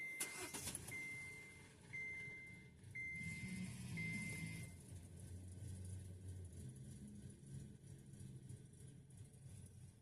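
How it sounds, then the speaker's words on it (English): Car engine cranking and catching, then settling into a steady idle, with a series of repeated high warning chimes early on over the running motor. "Now we're going to start the car, let it run till it dies"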